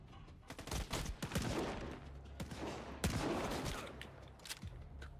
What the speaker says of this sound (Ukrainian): Що за стрілянина?